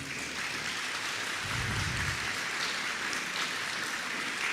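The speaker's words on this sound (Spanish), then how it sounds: "Les pido que se pongan de pie y les den un aplauso." Congregation in a church standing to applaud a couple after a marriage blessing, a steady, moderately faint wash of clapping that carries evenly from start to end, with a brief low rumble partway through.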